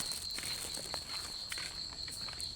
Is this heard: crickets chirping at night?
yes